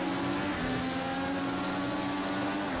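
An IndyCar engine in Project CARS 2 at the Circuit of the Americas drones at high revs under acceleration, a steady loud whine that climbs slightly in pitch.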